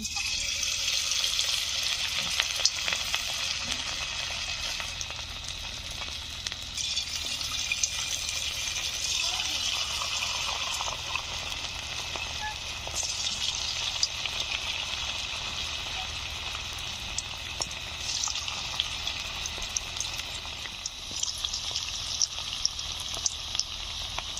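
Chicken pakoras deep frying in hot oil, village style: a continuous dense crackle and bubbling that holds steady and close throughout, with small pops scattered across the long stretch.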